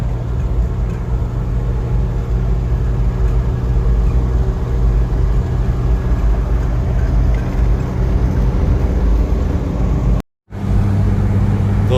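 A Toyota HJ61's engine drones steadily as heard from inside the cabin while driving on a Pakistani motorway, a constant low rumble with road noise and one brief dropout near the end.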